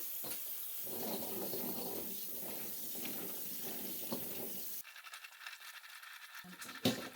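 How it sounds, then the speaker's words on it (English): Fresh garlic cloves rinsed under a running sink tap, a steady broadband rush of water for several seconds, then the flow cuts off leaving quieter splashes and a knock as the cloves are handled. "And I'm going to give these guys a wash in the sink."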